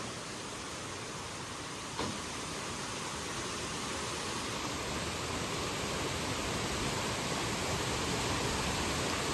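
Rushing water from a waterfall stream on the Rangna fort trail, a loud, steady, broadband roar that stays constant and close the whole time, with one brief knock early on.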